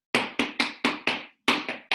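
Crisp tap-shoe strikes on a hard floor in a live tap class, seven sharp percussive hits in a quick even rhythm with a short pause before the last two, close and clean with no talk.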